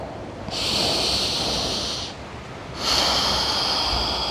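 Slow, deep breaths during a grounding yoga flow, two long airy breaths with a short gap between them, close and soft, with no talking.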